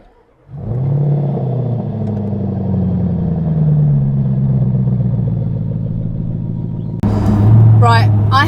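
A 2010 Jaguar XKR pulls away, its engine rising from a low idle into a steady, loud, close rumble that holds, then a sharper shift in tone near the end as a voice speaks over it.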